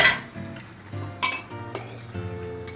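Low sizzling of flour toasting in a hot pan under repeated scraping and clinks of a utensil stirring, with sharp metallic knocks now and then.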